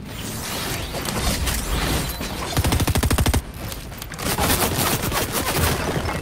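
Fortnite gunfire crackles in bursts, including a fast, evenly spaced automatic volley in the middle, amid dense in-game action noise.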